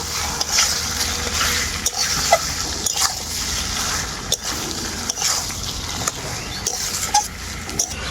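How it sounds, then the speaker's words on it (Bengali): Chicken pieces with ginger-garlic paste are stir-fried in a pan for mango kasundi chicken, giving a steady close sizzle broken by repeated scraping strokes of the spatula, with no voices. "আদা রসুনটাকে মাংসের সাথে খুব ভালো করে কষিয়ে নেব"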